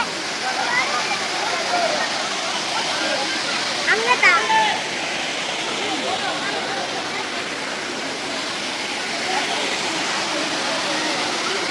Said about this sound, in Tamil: தண்ணி அவ்வளோ ஃபோர்ஸா விழுது.